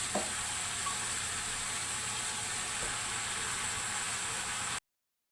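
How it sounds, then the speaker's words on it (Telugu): Freshly washed, chopped spinach drops into a pan of frying onions for a spinach tomato curry, giving a steady, close hiss of sizzling that holds evenly throughout with a faint stir or clink near the start and no voices. "శుభ్రంగా కోసి పెట్టుకున్న పాలకూర వేస్తున్నాను"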